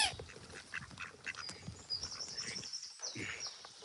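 Ducks quack and call repeatedly at close to mid range, a busy run of short raspy calls with a brief lull near the end before the calls resume, with no talk over them.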